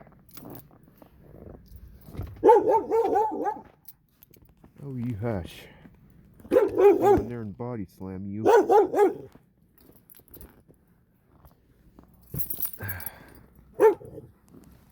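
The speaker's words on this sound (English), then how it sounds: "I don't know if that's the dog or the car barking at me." A dog barks in bursts on a 3-degree winter morning during a cold start of a 2010 Hyundai Accent, with a person talking over and between the barks.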